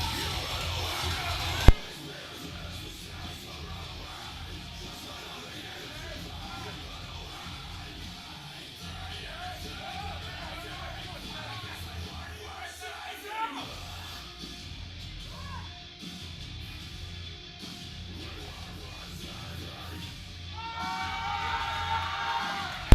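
A crowd at a powerlifting state championship cheers and yells for a lifter, scattered whoops rising and falling over a murmuring hall, with a sharp bang early on and a louder swell of cheering near the end.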